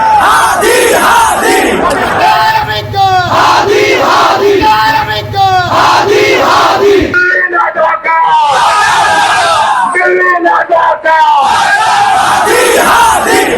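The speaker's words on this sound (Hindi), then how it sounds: "हजारों लाखों की भीड़ प्रदर्शन कर रही है और यह प्रदर्शन उग्र हो गया" A massive crowd of protesters in Bangladesh roars and chants continuously, dense layered shouting and yelling filling the street, loud and close, with a brief lull and then renewed surging cries.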